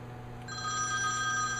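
A telephone bell starts ringing about halfway through, a steady bright electronic trill over a low background hum, close and clear with no talking.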